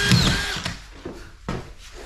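A power drill driving screws into a metal rail for wall lining, with short loud whirring bursts and a brief pause between them, heard close.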